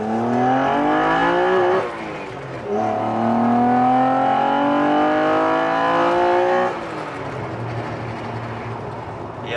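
A BMW Alpina tribute car's engine revs hard in repeated rising sweeps, dropping back briefly between pulls, loud and close with no voices over it.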